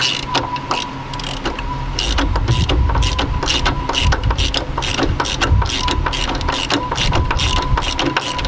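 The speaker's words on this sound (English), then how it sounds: "tighten her up by hand with a ratchet" A ratchet tightens a drop link nut on a Mk6 Fiesta ST150, giving rapid, evenly spaced clicks repeated over several seconds, close and clear over a faint background hum.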